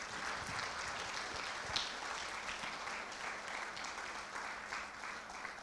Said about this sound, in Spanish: Give an applause to the Lord.